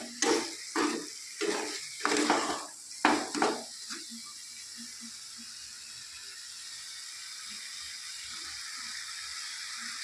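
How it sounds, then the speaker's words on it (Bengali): Chicken being stirred in a pan, with a burst of rapid metallic scrapes and clatters over the first few seconds, then settling into a quiet steady sizzle, close by and without speech. "এভাবে কিছুক্ষণ নাড়তে হবে"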